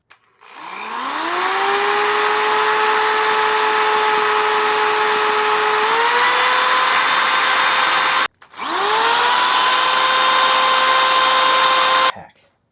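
An electric vacuum cleaner motor from a Miele Callisto spins up to a steady high whine while its commutator is sanded with 800 grit sandpaper, the pitch shifting slightly mid-run, then stops briefly and spins up again.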